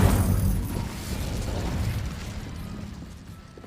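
An Incendio fire spell cast in Hogwarts Legacy: a sustained rushing, roaring whoosh of flame that swells at the start and slowly fades, loud and close with no talk.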